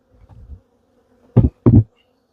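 Honey bees from a massive colony buzz around a hive box near a queen excluder, a faint low hum followed by two loud close buzzing bursts as bees are tapped off.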